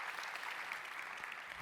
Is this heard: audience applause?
yes